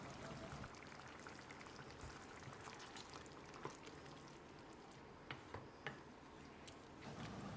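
Ground masala paste and water from a rinsed mixer jar being poured into a pot of Kerala-style chicken kulambu, a faint steady trickle with a few soft ticks and splashes, no talking.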